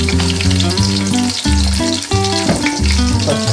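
Chopped onion and green chilli pieces fry in oil for a Godavari-style crab curry, giving a steady, loud sizzle that runs the whole time beneath prominent background music.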